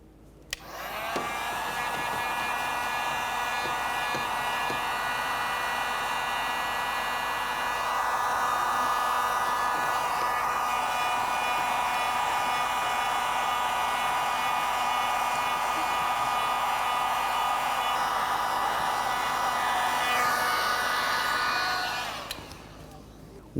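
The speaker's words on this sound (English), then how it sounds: "For this, you can use a hairdryer or heat gun." A hairdryer blows hot air over window deflector adhesive on a 2004-2015 Nissan Titan, a loud, steady whooshing whine that starts abruptly, runs unbroken for about twenty seconds, then cuts off.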